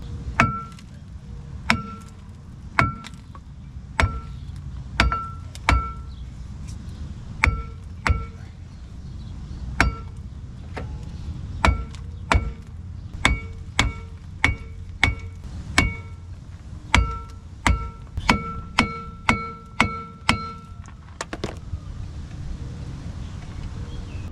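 Sharp metallic hammer strikes on a seized front brake of a 2006 Jeep Wrangler ring out one after another, often in quick pairs or bursts, loud and close with a bell-like clang.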